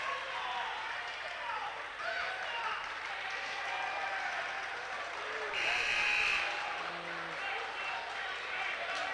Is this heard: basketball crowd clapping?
yes